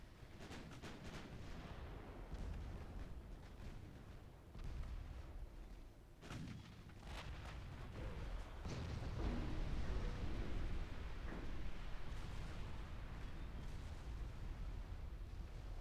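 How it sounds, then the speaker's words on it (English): A warship's magazine detonating after a torpedo hit in the naval game Ultimate Admiral: Dreadnoughts, a long rumbling series of heavy explosive booms and crackling blasts that swell into a sustained roar. "a single torpedo hit took out your entire magazine"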